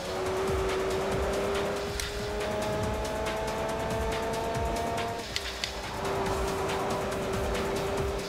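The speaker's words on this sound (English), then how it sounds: "Now this is a very fast car." A fast race car in the racing game Forza Motorsport 4 roars at high revs with a steady whining engine tone, shifting pitch through corners, with tire squeal and skidding, loud and continuous throughout.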